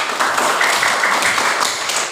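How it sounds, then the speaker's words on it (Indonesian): A classroom of pupils claps together for a classmate, a steady wash of many hands that runs loud and continuous for a couple of seconds without breaks. "Kasih tepuk tangan dulu buat Lila"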